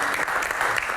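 A studio audience applauds in a brief, dense burst of clapping, steady and fairly loud for about a second.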